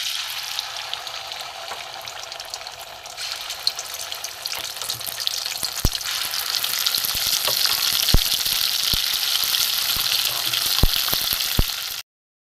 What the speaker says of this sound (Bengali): ভেজে ভেজে একটু শুকনো করে নেব। তেলও গরম হয়ে গেছে